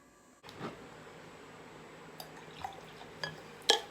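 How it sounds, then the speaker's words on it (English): Barefoot Bubbly Pink Moscato poured into a glass, heard as a soft, close trickle with a few small drips and clinks, faint and alone without talk. "let's go ahead and pour a glass"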